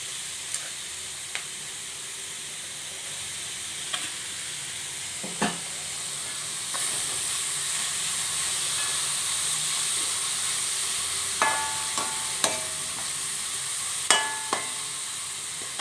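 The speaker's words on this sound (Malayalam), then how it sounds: "ക്യാബേജ് ഒന്നായി കഴിയുമ്പോഴത്തേക്ക് അതിലേക്ക് നമ്മൾ ക്യാരറ്റ് ഇട്ട് കൊടുക്കുക." Cabbage and carrots sautéing in a pan: a soft, steady sizzle throughout, broken by scattered light clicks of a utensil stirring against the pan, with no talking.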